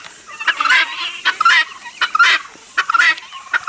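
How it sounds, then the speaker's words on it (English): Guinea fowl squabbling with turkeys at a chicken tractor coop: loud, harsh rattling calls and gobbling bursts repeat in a rough rhythm about every half second, close by and with no talking. "squabbles between those two groups, the turkeys and the Guineas"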